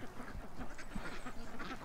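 Ducks quack in a steady, moderately close chorus of short nasal calls over a soft outdoor background, with no clear talking.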